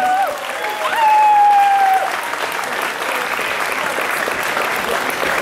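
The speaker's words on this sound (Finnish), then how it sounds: "Annetaan aplodit vauhdikkaasta ottelusta" Crowd applause after an amateur boxing match in a Turku venue; sustained dense clapping and cheering with a whistle-like tone and brief voices rising over it early on.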